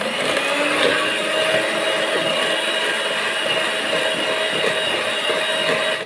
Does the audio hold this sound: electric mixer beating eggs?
yes